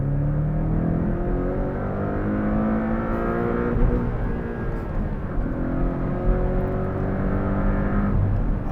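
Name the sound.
Porsche 718 Cayman T engine accelerating through the gears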